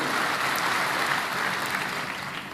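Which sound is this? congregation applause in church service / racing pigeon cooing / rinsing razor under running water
congregation applause in church service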